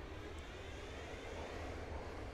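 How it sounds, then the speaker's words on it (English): Diesel locomotive engine in the Train Sim 2020 video game, Norfolk Southern coal district, trying to start up: a steady, low rumbling drone with broadband hiss, continuous and even throughout, without talk. "You can hear it trying to start up."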